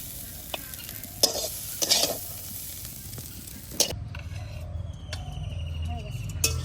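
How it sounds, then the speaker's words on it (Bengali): Bottle gourd leaves fry and get stirred in a pan, a soft continuous sizzle broken by sharp scraping clatters of the spatula, with a deeper rumble joining midway. "লাউ পাতা ভাজা হয়ে গেছে"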